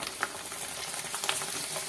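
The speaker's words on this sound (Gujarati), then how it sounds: "અને તેને પણ આપણે આ રીતે તળી લઈએ." Rice flour bhungla frying in hot oil, a steady close crackling sizzle with small pops, heard alone without talk.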